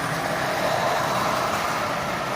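A Marx 799 toy train fitted with a micro motor runs around its rail track. It gives a steady, close whirring rumble with no breaks and no voices.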